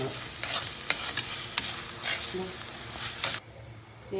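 Ginger-garlic paste sautéing in a pan for chicken fry, a steady close sizzle with scraping stir strokes at irregular intervals, no voices.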